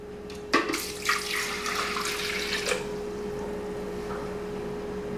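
Ice water, 400 ml, poured for a Dukan-diet mango and goji berry mousse: a short splashing pour that runs about two seconds, then fades, close by with no talking.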